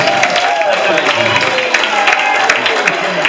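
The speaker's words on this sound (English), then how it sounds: "Give them all a round of applause." A comedy show crowd claps and whoops in a continuous wash of applause, mixed with scattered voices.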